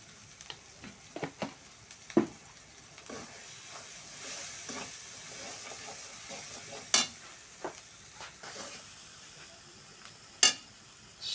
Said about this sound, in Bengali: একটু নাড়াচাড়া করে মশলাটা একটু সুন্দর করে কষিয়ে নিতে হবে